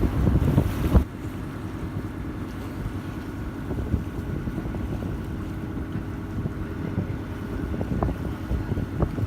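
A water bus cruises through Venice, its low engine rumble joined by wind buffeting the microphone and the wash of water around the hull, with a sharp knock near the start and no talking.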